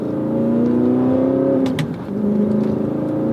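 Last manual Audi R8, with 150,000 miles on it, rounding a roundabout, its engine holding a steady, close mid-pitched drone with a slight dip and recovery in revs partway through.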